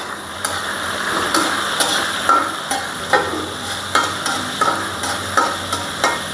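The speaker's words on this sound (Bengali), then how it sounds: "আমি এনে একটু হালকা ভেজে নেব চিংড়ি মাছটা" Shrimp frying lightly in a pan with spice paste, a steady sizzle punctuated by regular stirring scrapes and clinks roughly every half second, close and alone without talk.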